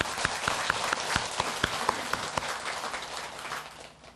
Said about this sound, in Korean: 감사드리고 박수 한번 쳐드리겠습니다.